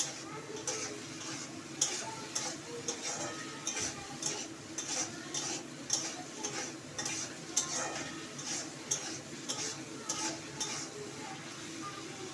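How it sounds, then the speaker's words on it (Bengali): Spice paste and tomatoes being stir-fried in a pan for Bengali katla fish rosa, a steady sizzle under rhythmic clicking scrapes of a spatula against the metal, moderately faint and close, with no talking. "টমেটোগুলো দিয়ে দিলাম এবার মশলাটাকে আমি কষাবো এইভাবে"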